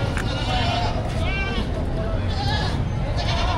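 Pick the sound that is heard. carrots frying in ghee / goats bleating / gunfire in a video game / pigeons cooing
goats bleating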